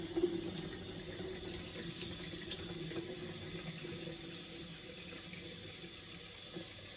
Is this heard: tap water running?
yes